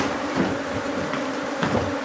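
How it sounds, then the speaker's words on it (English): Guard honey bees buzzing at a hive entrance; a steady, dense, close drone of many bees with faint knocks now and then, and no voices. "We have a lot of guard bees here."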